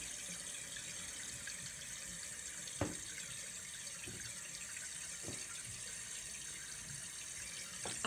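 Toilet tank refilling after a repair for a constantly running toilet, a steady broadband rush of water at full flow with a few faint clicks and knocks, no voices.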